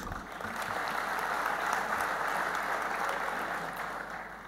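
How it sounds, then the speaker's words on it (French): A large audience claps for a group honoured during an opening address at a summer university event, a thick, sustained ovation that swells slightly and then eases toward the end. "Je vous demande de l'applaudir"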